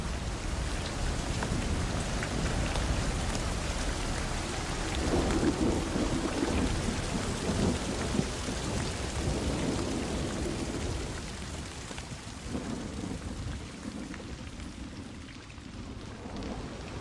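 Steady heavy rainfall pours throughout on a wet forest at the foot of the Tatras in Slovakia, with deep rolling rumbles of thunder building in the middle and easing toward the end.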